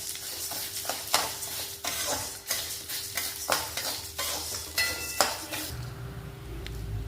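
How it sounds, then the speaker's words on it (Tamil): Ingredients roasting in sesame oil in a pan, with a steady sizzle and frequent scraping and clinking strokes of a metal spatula close by. The sizzle drops away near the end, leaving a low rumble, and no one talks. "கொஞ்சமாக இதில் நான் நல்லெண்ணெய் போட்டுக்கிறேன். நம்ம நல்லா இதை வறுத்துக்கணும்."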